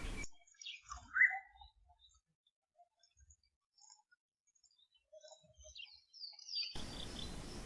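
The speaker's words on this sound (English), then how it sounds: "It's an oriole calling in the background," An oriole calls faintly in the background of an African bush setting, a few brief whistled phrases amid soft insect ticks and near silence, with a burst of wind or noise at the start and end.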